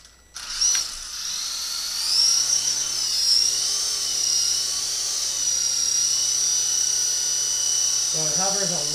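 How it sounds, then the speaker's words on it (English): An Intercepter 052 RC helicopter spools up and hovers nearby, its rotor and motor making a steady high-pitched whine that holds throughout, with a voice speaking briefly at the end. "So let's give this a little bit of a flight for you and show you how she's working now."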